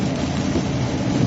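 Steady rain drums on a vehicle during a thunderstorm chase in Illinois, a dense unbroken wash with a low rumble underneath and no voices.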